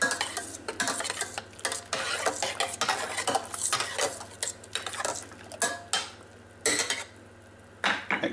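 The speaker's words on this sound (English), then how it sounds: "we're going to use a metal spoon just to give that a little bit of a stir around" A metal spoon stirs malt extract in boiling water for home brewing, rapid repeated clinks and scrapes against the pot in bursts, close and clear, no talk.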